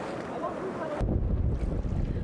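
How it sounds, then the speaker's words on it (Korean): Sea waves crashing over a small wooden fishing boat off the Madagascar coast, a loud rushing surge of water and wind buffeting the microphone, with a sudden heavier wash hitting midway. "순식간에 파도는 작은 배를 덮쳤는데요."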